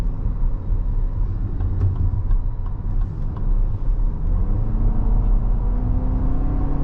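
A 2023 Lexus RX350's turbo engine on the move, a loud, steady low rumble and road drone from inside the cabin with faint rattles above it and no talking.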